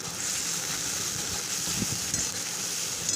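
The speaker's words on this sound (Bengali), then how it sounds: "এখন মশলাটা আমি ভালো মতন কষিয়ে নেব, 5 থেকে 6 মিনিট মতন কষাবো।" Spice paste with red chilli powder frying in oil in a pan, a steady, even sizzle that holds for the whole stretch with a few faint stirring scrapes underneath.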